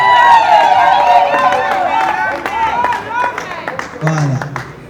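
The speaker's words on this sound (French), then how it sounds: "Vos applaudissements s'il vous plaît." Wedding guests applaud and cheer in a lively crowd, with clapping and babble of voices running throughout, swelling and easing over a few seconds.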